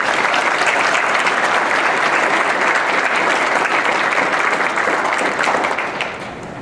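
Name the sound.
audience applause at public meeting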